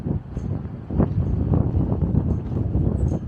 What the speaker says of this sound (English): Pretty windy today, as it is very open plains here